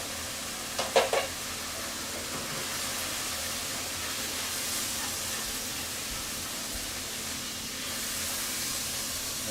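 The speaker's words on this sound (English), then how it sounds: "I'm going to stir this around until I can start getting a good, strong, fragrant nose of all those spices." Spices tossed into a pan of tender, translucent vegetables hiss and sizzle steadily, with a brief clatter of stirring early on under the constant frying noise.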